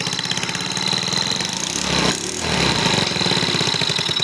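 A rebuilt 139QMB scooter engine idles after a full overhaul, a loud close rapid putter with a rhythmic knock that holds steady throughout, slightly rising midway.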